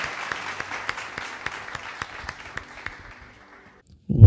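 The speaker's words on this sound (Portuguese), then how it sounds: "dar um louvor de palmas ao nome do Senhor" A church congregation claps in praise during a worship service, starting as a rhythmic, evenly spaced beat of many hands that thins and fades over several seconds before a sudden low thump at the end.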